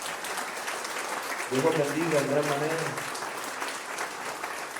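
Congregation applause for volunteers at a Sunday church service, a moderate wash of clapping that swells and carries on while someone speaks over it and organ-like chords sound briefly in the middle.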